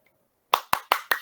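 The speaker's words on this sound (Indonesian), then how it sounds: "Kita kasih tepuk tangan." Four sharp, evenly spaced hand claps from an online class audience, close and distinct, ringing out alone after a brief silence with no voices.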